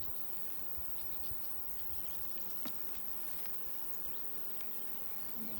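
Honeybees buzzing steadily around an open hive during a beekeeping inspection, a faint, continuous hum with occasional single bees passing close.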